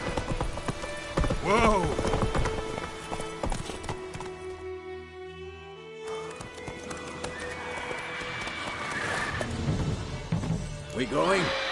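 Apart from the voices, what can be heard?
horse galloping in video game The Witcher 3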